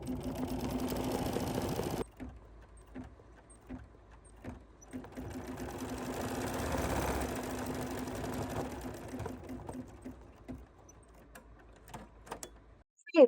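An embroidery machine stitches a trapunto pillow design with a fast, steady mechanical whir and needle clatter. It pauses briefly, then runs in short bursts and a longer stretch, fairly quiet and close, with no voices.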